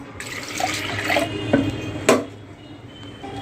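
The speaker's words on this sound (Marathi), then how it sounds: "त्यानंतर आपण यामध्ये पाणी घालूया" Water splashes and trickles into a metal pressure cooker of dal with chilli, with a couple of sharper clinks and splashes midway; close by, no talking.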